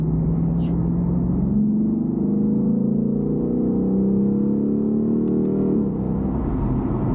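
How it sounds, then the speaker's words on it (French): A Lexus IS F with a V8 engine drones steadily from inside the cabin while being driven, its engine note rising gradually, then settling, with a constant road rumble underneath. "là, je roule la petite Lexus"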